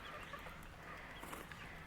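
Orpington hens on a homestead cluck softly in the background, a few faint, brief clucks against a steady outdoor hiss.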